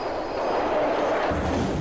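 A moving train in the video game Hitman: Absolution rolls past with a steady, close rumble and rattle, growing rougher toward the end.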